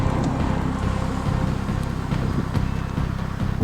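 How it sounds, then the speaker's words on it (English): Steady low road and wind roar inside a Hyundai Ioniq Hybrid cruising at motorway speed, with a dense, even rumble and a slight airy hiss running throughout and no voices. "At motorway speeds, there's a little bit of wind noise that comes through from the front windscreen pillars"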